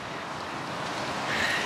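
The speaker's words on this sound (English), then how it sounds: "it's so windy out." Strong outdoor wind on a cold day, a steady broadband rush buffeting the microphone, rising slightly near the end with no voices.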